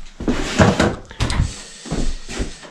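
A new interior door still wrapped in its plastic packaging is handled and opened, giving a run of thuds, knocks and rustling bumps of varying loudness, close by, with no talk.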